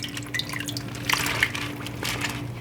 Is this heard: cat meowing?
no